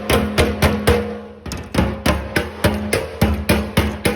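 Repeated metal-on-metal hammer blows knocking fitted metal parts tight before welding, about two strikes per second with a short pause, close and clear.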